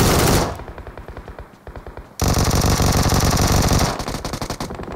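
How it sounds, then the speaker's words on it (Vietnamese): Video game gunfire: sustained automatic weapon bursts, loud and dense, easing briefly into sparser rapid shots before a heavy continuous volley returns, with no talk over it. "Nó bắn nhau bên ngoài anh em ạ."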